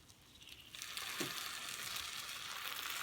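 A hissing sizzle bursts up as syrup hits hot store-bought baklava, a loud crackling fizz that swells and holds steady after a quieter start.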